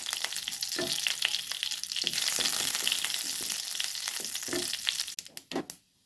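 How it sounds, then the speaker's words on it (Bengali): Mustard seeds and dried red chillies sizzle in hot oil, tempering a tangy fish-roe dish: a bright, crackling fry with soft stirring strokes that fades abruptly near the end. "সরষে ফোড়ন দিয়ে দিলাম"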